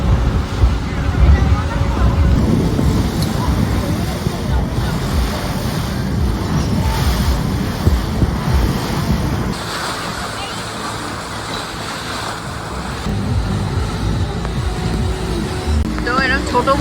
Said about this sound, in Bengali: কারণ সমুদ্র প্রচন্ড উত্তাল।